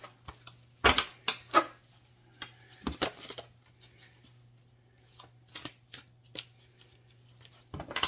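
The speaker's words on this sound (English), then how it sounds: "I'm having trouble shuffling." Tarot cards are shuffled in uneven bursts of crisp riffling and slapping, loud at first and then softer and scattered, over a low steady hum.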